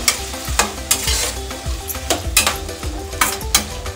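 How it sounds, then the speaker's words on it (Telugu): Potatoes fry with turmeric and salt in a pan, a steady sizzle broken by repeated scraping stirs of a utensil against the metal, close and fairly loud with no talking. "హాఫ్ టీ స్పూన్ పసుపు, మనం ఫ్రై చేసుకుందాం."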